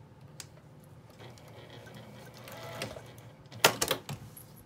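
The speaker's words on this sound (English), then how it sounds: "and then baste that down with the sewing machine" A sewing machine runs quietly in short stitching bursts, with a louder clattering spurt of stitching near the end.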